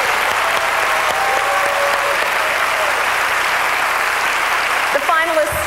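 Loud, continuous audience applause at a televised Florida teacher-of-the-year ceremony, a thick steady roar of clapping that holds at full level throughout, with a voice rising near the end.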